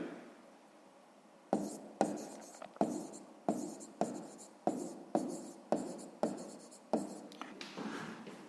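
A pen scratches on paper as a math answer is written down for a sixth-grade exercise. About a dozen quick, rhythmic strokes are heard close up after a quiet start.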